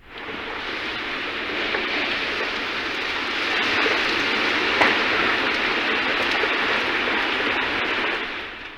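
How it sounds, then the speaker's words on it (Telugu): Heavy downpour during a sudden thunderstorm in Telangana, a steady dense hiss of rain lasting throughout with no distinct thunder clap standing out, loud and continuous. "ఉన్నట్టుండి ఉరుములు మెరుపులతో కూడిన భారీ వర్షం పడింది."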